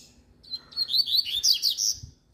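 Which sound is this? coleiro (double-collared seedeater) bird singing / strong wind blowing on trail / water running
coleiro (double-collared seedeater) bird singing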